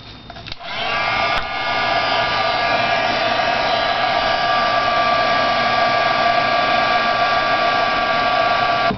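A heat embossing tool blows hot air in a loud, steady whir with a strong tonal whine. It switches on after a brief click near the start and then runs unbroken and close, with no voices.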